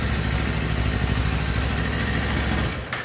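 A 2024 Kawasaki Ninja 500 SE engine idles steadily up close with a low, even rumble, cutting out abruptly near the end.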